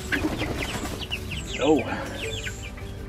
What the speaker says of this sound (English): Forgot to give these chickens some bedding.